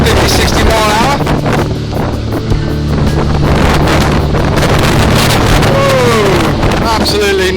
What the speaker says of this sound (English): Absolutely mega wind, good gusts of about 50-60 mile an hour.